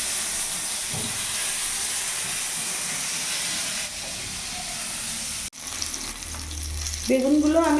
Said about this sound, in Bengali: বেগুনগুলো আমি উল্টে পাল্টে করে লাল লাল করে ভেজে নিয়েছি